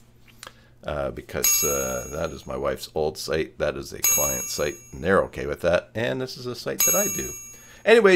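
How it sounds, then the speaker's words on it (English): Bell-like notification chimes ring in a few bright bursts as Joomla websites update, sounding behind someone talking steadily throughout. "you can hear the bell running in the background"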